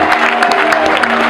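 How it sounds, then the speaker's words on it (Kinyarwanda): A church congregation applauds loudly in a brief burst, the clapping layered over steady tonal music in the background. "Wakomeye Imana amashyi cyane"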